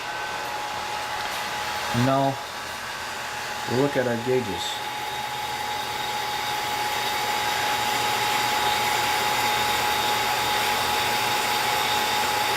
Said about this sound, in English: Alright, so turn our vacuum pump on.